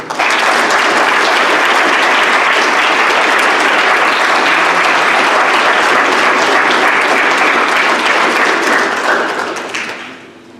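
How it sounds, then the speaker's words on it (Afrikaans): Loud, sustained hand clapping from a church congregation, dense and continuous for about ten seconds before tapering off at the end, close and full, with no talk over it. "Ek kan hulle hande klap gee."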